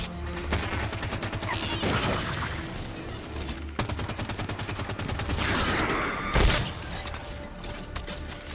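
Sustained automatic gunfire in Halo 5: Guardians, dense rapid bursts with sharp impacts and a brief explosive crash near the end, loud and continuous throughout with no talking.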